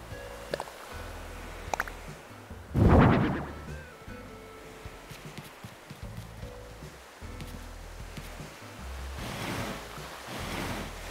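Ocean waves wash in a video game: a soft, continuous surf bed with one louder nearby surge and a later swelling rush, and no voices.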